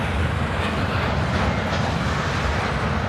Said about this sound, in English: It's a Norfolk Southern freight train carrying logs.